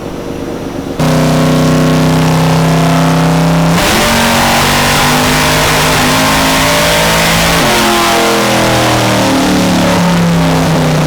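A Chevrolet Camaro engine on a dyno run, starting after a brief lower idle, then revving hard and loud with a steady roar whose pitch climbs and shifts throughout, close and continuous with no voices.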